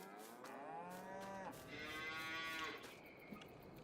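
Limousin cattle moo in the bush, one long loud drawn-out lowing call with a second shorter moo following, heard clearly from nearby with faint outdoor background.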